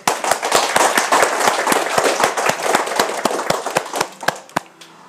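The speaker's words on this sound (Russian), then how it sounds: "Аплодисменты вам." A lecture audience applauds at the close of a talk, a dense run of sharp claps in a quick, fairly regular rhythm that thins out and fades at the end.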